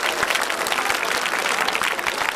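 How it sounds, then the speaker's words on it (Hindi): Audience at a village Shrimad Bhagavat Katha gathering claps loudly for themselves, a dense, close burst of many hands with a few sharp individual claps standing out, steady throughout. "एक बार आप लोग अपने लिए जोरदार ताली बजा दो।"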